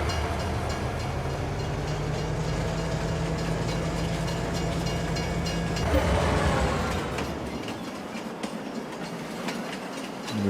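A freight train rolls past in Farming Simulator 22, a continuous loud rumble with clattering wheels and metallic clicks that swells about midway and then thins out as it moves off.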